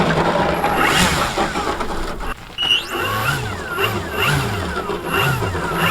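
A 15cc gas engine on a Hangar 9 Carbon Cub RC plane revs up and down in repeated rising-and-falling bursts, loud and close, with a brief dip in the middle.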